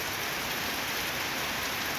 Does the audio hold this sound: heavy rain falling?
yes